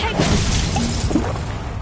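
A Bombarda spell blast in Hogwarts Legacy bursts with a shattering crash that fades into a short rumbling tail during combat, with a voice calling out over it.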